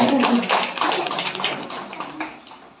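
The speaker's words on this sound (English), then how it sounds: "Congratulate him with your claps." Audience applause for a prize winner at a school children's sports prize distribution: a burst of brisk, scattered clapping from a crowd that is loud at first and gradually thins and fades over a few seconds.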